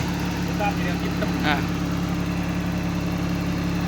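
A motorcycle engine on a roughly 50,000-baht machine idles smoothly and evenly as a steady low rumble, with someone talking over it throughout.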